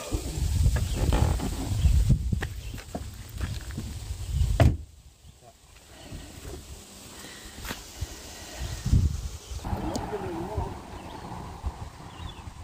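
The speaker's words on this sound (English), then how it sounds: "I'm just closing these doors up." Doors being closed at home, with several loud knocks and thuds in the first few seconds and a sharp bang near the middle, followed by quieter rustling and shuffling.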